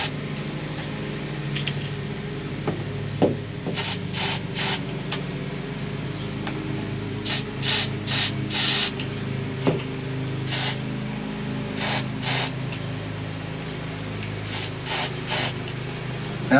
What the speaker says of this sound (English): We'll get the nozzle spraying there somehow.